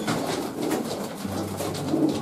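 Pigeons kept in cages coo softly and repeatedly in low, throaty murmurs, several birds overlapping in a close, continuous bubbling chorus.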